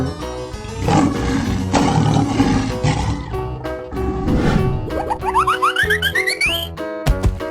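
A lion roars loudly in a 3D animal sliding video game, a long rough roar followed by a second, with bouncy boing effects and music underneath.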